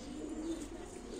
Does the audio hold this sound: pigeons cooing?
yes